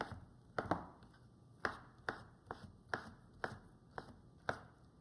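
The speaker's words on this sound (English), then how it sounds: "Get slicing." A knife slices through an avocado on a cutting board while making bruschetta: about nine crisp, evenly spaced strokes, close and unaccompanied by any voice.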